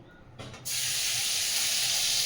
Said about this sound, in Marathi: आता लसणीची फोडणी देते.